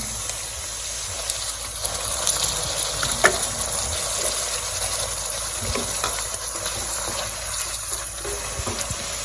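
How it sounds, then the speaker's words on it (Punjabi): Turnip greens frying for saag in a pan, a soft steady sizzle with faint stirring and scraping, fairly quiet and without talk. "ਇਹਨੂੰ ਆਪਾਂ ਥੋੜਾ ਹਰਾ ਫਰਾਈ ਕਰਨਾ ਹੈ"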